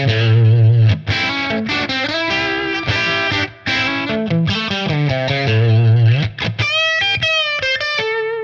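Overdriven electric guitar on the bridge pickup through a Fuchs ODS amp profile plays a loud, distorted riff of chugging chords and sustained notes, closing with ringing higher notes.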